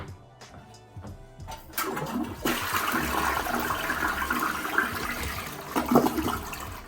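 Toilet flushing in a hotel room bathroom at a Microtel in Princeton, WV, starting with a loud rushing surge at about two seconds and then a steady, churning water roar that keeps going to the end, close by and heard alone.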